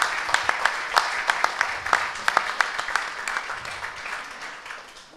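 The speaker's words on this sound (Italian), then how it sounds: "vorrei che magari ci fosse un applauso per ringraziarla" An audience at a civic commemorative event in Italy claps in thanks, a burst of distinct, crisp hand claps that gradually thins and fades over several seconds.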